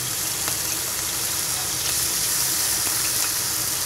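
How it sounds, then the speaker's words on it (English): Marinated meat, with onions, frying in a hot pan, giving a steady, close sizzle with a dense hiss that continues throughout without any talk. "So we start off by putting the meat into the pan and frying it off."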